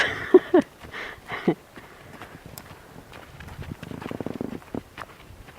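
A horse moves on a lunge line during groundwork, with a few loud thumps early on and then a soft, quick patter of hoofbeats later, fairly faint against a quiet outdoor background.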